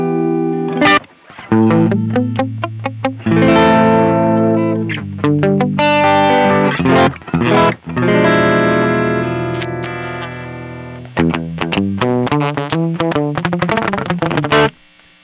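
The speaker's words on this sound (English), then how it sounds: "Still driving it to distortion with the tube saturation" Electric guitar driven into distortion by tube saturation in a Synergy Syn 1 preamp, loud chords and choppy riffs with sustained ringing notes broken by brief pauses and rapid muted chugs.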